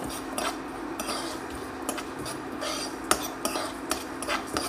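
Spices and mustard seeds dry roast in a pan over a low flame while a utensil stirs them, making continuous scraping and rustling broken by sharp metallic clicks and taps against the pan.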